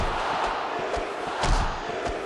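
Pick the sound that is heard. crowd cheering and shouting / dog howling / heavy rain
crowd cheering and shouting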